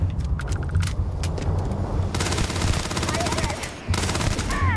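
Rapid gunfire from a weak gun in the video game Starfield, loud bursts of repeated shots mixed with game sounds and some talk, with a short pause before the firing resumes.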